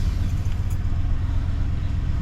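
The engine of a 1996 Cadillac Fleetwood runs just after starting, a steady low rumble heard up close, running on its own for a couple of seconds.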